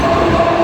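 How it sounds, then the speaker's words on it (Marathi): A train at Vasai station in Mumbai gives off a steady, loud, close rumble with rail clatter, with no talking over it. "मी एकटाच वसईवरून ट्रेन पकडतो आहे"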